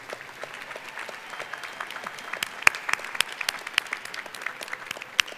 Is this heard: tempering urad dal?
no